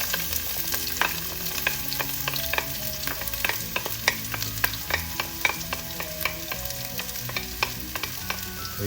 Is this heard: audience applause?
no